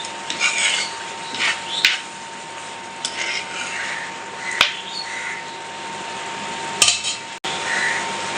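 Beef tripe curry is stirred in a pot with a few scraping, rubbing strokes and sharp knocks of the spoon against metal, close and moderately loud over a faint steady hum.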